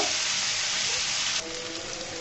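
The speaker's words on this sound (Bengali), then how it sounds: "সুন্দর করে আমি তেলের সাথে 2-3 মিনিট মতো ভেজে নিব" Potatoes fry in hot oil with a dense, steady sizzle that fills the whole clip and eases slightly partway through, with no one talking.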